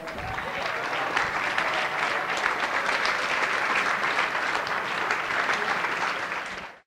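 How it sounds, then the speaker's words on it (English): Wedding reception guests applauding after a best man's speech, a dense, even burst of clapping lasting about seven seconds before cutting off. "Let's give him a round of applause"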